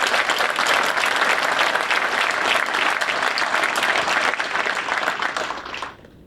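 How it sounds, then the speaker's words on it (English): A crowd at a military change of command ceremony for the 11th Wing gives a loud, dense round of applause that holds steady, then tapers off and fades out near the end. "If we could just give a round of applause to him."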